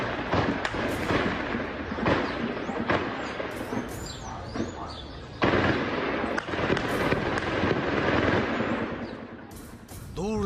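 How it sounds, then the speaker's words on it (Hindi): Gunfire rattles during a large police raid on drug gangs in a dense Rio de Janeiro hillside neighbourhood, sharp cracks and bursts of shots echoing at varying distances over a busy, noisy background. "गोलियों की तड़तड़ाहट"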